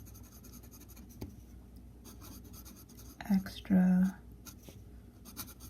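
An Omas 14k gold Extra Flessibile fountain pen nib scratches softly across paper in a steady, faint stroke, with a brief spoken word breaking in partway through.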